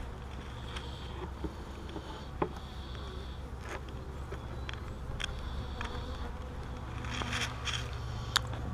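Honey bees swarm through an opened, crowded hive being inspected for splitting on a cool, windy day, with a steady close buzzing drone and a few faint clicks and knocks.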